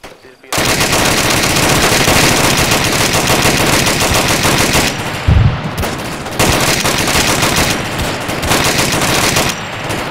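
Heavy automatic gunfire in the Arma 3 military shooter, loud sustained bursts of machine-gun fire with a brief lull near the middle before the shooting resumes.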